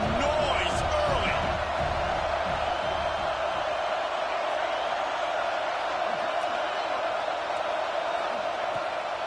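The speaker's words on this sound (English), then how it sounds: "This crowd bringing the energy and noise early." A stadium crowd at a football game roars and cheers continuously, a dense far-off wash of voices with some sharper peaks early on and a steady hum throughout.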